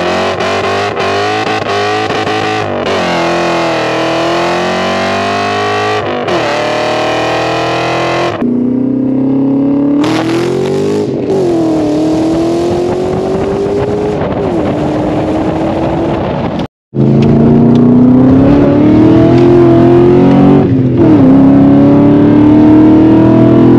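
A BMW 540i E39 V8 engine revs hard and loud, its tone rising and falling across several sustained pulls, with one abrupt cut near the end before the roar resumes, close and alone with no talk.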